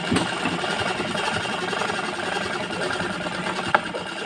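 A sewing machine stitching the back panel of a blouse runs steadily and fairly close throughout, a continuous mechanical whir with a single sharp click near the end and no talk over it.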